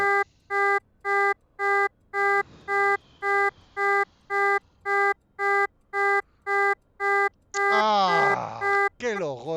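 A Yak-40 flight simulator's cockpit warning horn blares in repeated evenly spaced pulses, a steady harmonic buzz, before someone speaks over it near the end.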